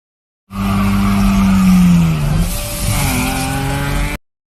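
A car peels away with a loud, sustained tire squeal that falls in pitch, followed by a strained engine note and continued skidding for about four seconds, with no voices.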